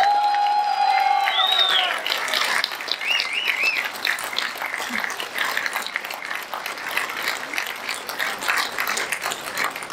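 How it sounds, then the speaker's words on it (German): Crowd applause and cheering greet AfD federal spokesman Tino Chrupalla at a political rally in Dresden, dense and sustained clapping over ten seconds with whistles and a shouted note near the start, fairly close and loud throughout. "Mit einem riesigen Applaus unser Bundessprecher Tino Chrupalla."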